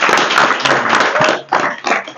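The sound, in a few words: crowd clapping at a political rally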